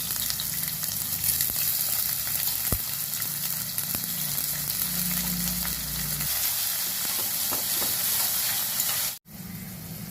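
Cumin, chopped onions and green chilies frying in a little oil in a pan for capsicum tomato rice, giving a loud, even, close sizzle with a few faint stirring taps, steady throughout and with no talking.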